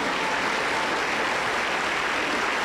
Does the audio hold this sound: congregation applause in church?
yes